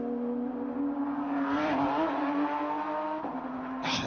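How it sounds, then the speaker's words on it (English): An older-generation Porsche Cup race car on a tight, technical circuit, its engine note loud and sustained with a steady high drone that dips briefly near the end, with no voices present. "There's nothing like the sound of a Porsche,"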